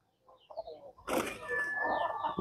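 A chicken clucks and squawks close by, a few short calls followed by a louder sustained cackle.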